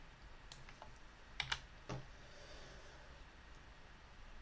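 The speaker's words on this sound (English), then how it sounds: "give it a size with my keyboard" Faint computer keyboard typing while entering a dimension in the OnShape CAD program: a few scattered, light key clicks, with a pair of slightly sharper taps near the middle, over a quiet room hiss.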